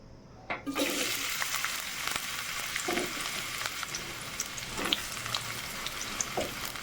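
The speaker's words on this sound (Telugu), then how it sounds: "మనకి ఆయిల్ హీట్ అయిన వెంటనే ఆనియన్స్ వేసేసుకుందాం" Onions hit hot oil in a pan as a Telugu cook starts a beans and tomato curry: a broad, steady sizzle begins sharply after a brief quiet moment and keeps going, with occasional soft stirring knocks and no talk.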